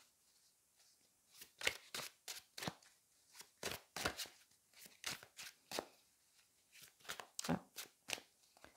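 A Rider tarot deck is shuffled and drawn by hand, producing a quick, irregular series of crisp card flicks and riffles, close and fairly soft, with a brief murmured voice.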